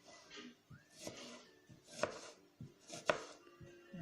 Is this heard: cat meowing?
no